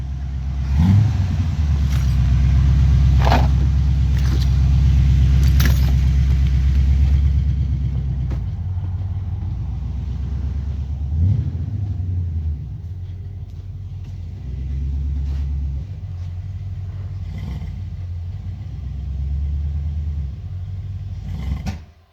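A 1979 Chevy Impala, long abandoned, starts in a garage: a loud low engine rumble with sharp clatters that eases into a steady idle and faint rolling, with no talking.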